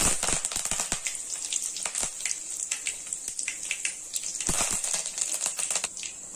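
Dense crackling and spitting of curry leaves frying in hot oil with fenugreek seeds, rapid irregular pops over a bright hiss, close up with no talking.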